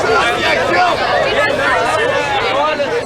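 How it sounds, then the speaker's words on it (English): A crowd of drunk, noisy teenagers gathering at a night-time accident scene: dense overlapping chatter and shouting voices, close and loud, a steady babble throughout. "a crowd of drunk and noisy teenagers has begun to gather"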